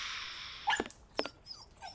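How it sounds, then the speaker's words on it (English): Inside the Sherlock Holmes versus Jack the Ripper video game, a dog gives a couple of short, faint barks and yips against a hissing ambient background, with no talk. "I hear a dog, but I don't see a dog."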